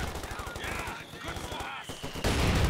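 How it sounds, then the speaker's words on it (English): A Company of Heroes 2 battle with rapid bursts of gunfire and machine-gun rattle, then a sudden loud boom of a mortar hit near the end, with a voice talking over the fighting. "Oh, that was a big hit from the mortar team though."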